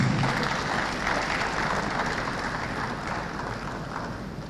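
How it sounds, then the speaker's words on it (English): Audience applause at a venture capital program event in Enugu as a speaker walks to the stage, a thick, continuous roar of clapping that stays loud and even, easing off slightly toward the end, with no talk. "Can we give her a round of applause, please?"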